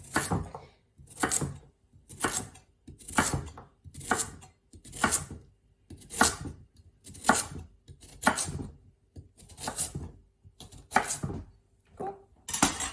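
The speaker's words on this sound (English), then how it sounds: "I pretty much just roughly chop everything about this size is fine." Pumpkin roughly chopped with a knife on a board, making about a dozen evenly spaced thuds, each with a brief scraping tail, in a steady rhythm close up and with no talking.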